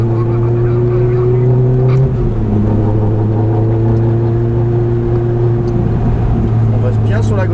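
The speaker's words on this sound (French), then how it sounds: "Et on prend de la vitesse, on accélère progressivement." A car engine hums steadily at close range and builds speed gradually on a road, while a person talks over it for the whole stretch.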